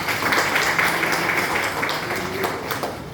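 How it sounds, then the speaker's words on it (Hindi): Applause for a newly named school campaign team in India, steady dense clapping from a group filling the room for about three seconds. "इनके लिए एक बार ताली लगाएंगे, एक बार जोरदार।"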